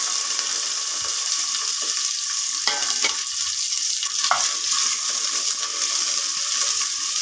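Small onions, green chillies and curry leaves sautéing in hot oil for a white chickpea biryani, a constant bright sizzle with occasional spoon clinks and stirring scrapes, close and loud.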